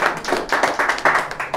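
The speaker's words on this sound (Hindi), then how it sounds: "तालियां बजाएंगे तुझे, हरी बोल।" An audience claps during a Bhagavad Gita talk, a short burst of rhythmic, closely spaced claps at a steady pace, near and fairly loud with no voices over them.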